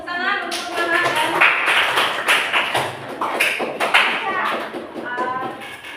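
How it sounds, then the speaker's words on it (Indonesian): A school class claps for a student, a lively round of applause from many hands with sharp individual slaps standing out, while a teacher and children talk over it. "Tepuk tangan untuk Maha"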